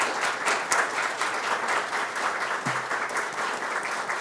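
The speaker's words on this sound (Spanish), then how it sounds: "un aplauso" A seated audience applauds at the official launch panel of a national statistical plan, a steady, moderately distant wash of many hands clapping, with a brief low murmur near the end.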